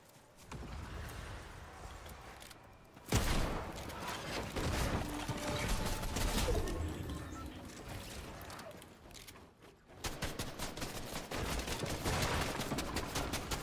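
Gunfire in Fortnite, clattering rapid shots and mechanical rattles in bursts separated by brief gaps, fairly loud and close with little talk.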